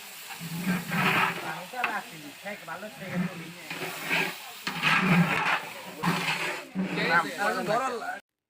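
Rice fries with chopped onion and green chili in a pan, giving a continuous sizzle and hiss with occasional stirring, while a person talks over it throughout.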